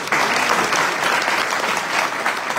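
Steady, dense applause from a crowd at an ISKCON youth talk in Surat, loud and sustained throughout with no pauses.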